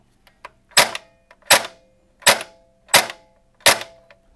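An airsoft P90 fitted with a Perun MOSFET fires in semi-auto, giving five sharp, evenly spaced shots close up, each a snappy crack with a brief mechanical whir, separated by quiet gaps.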